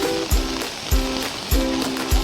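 Flood water on a swollen river surges along, with a steady rushing wash broken by about four rhythmic splashing bursts as waves slap through.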